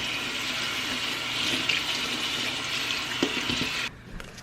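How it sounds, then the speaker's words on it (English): Tap water runs steadily as raspberries are washed under a kitchen faucet, a continuous close splashing that cuts off near the end. "Now I'm gonna wash the raspberries."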